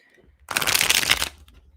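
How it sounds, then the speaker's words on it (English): A tarot card deck is riffled in one brisk, crisp shuffle lasting under a second, close and fairly loud against a quiet room, with no talking during it. "I'm gonna give this deck a nice shuffle while I wait for your question"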